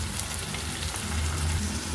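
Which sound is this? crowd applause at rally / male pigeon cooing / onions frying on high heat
onions frying on high heat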